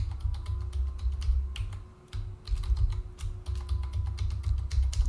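Rapid clicking keystrokes as a password is typed on a computer keyboard, close and distinct, over a steady low hum with a brief pause partway through.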